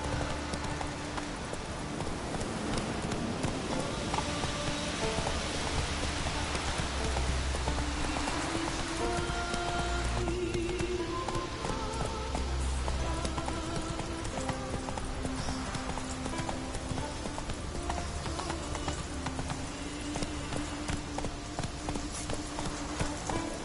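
Roach, a horse in The Witcher 3 on PS4, gallops with steady rhythmic clip-clop hoofbeats over a continuous rain-like hiss and game music, close and loud throughout.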